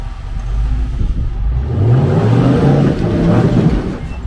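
An LQ4 LS-swapped Jeep engine rumbles loud and close off-road at Calico Ghost Town, revving up into a sustained, rising roar with a deep low-end drone.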